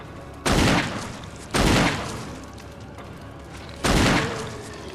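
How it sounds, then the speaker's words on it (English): Three loud, booming hand cannon shots fired point-blank at a monster in the Resident Evil HD remake, evenly spaced, each a sharp blast with a decaying tail, over a low game background. "3 point-blank shots with a hand cannon."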